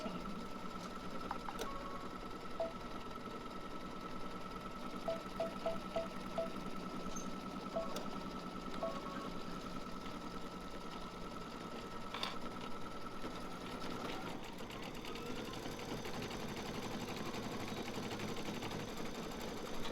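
A sewing machine steadily stitching a frame around a clear vinyl window for a luggage tag, a constant quiet mechanical whir with faint ticks, the pitch shifting slightly near the end.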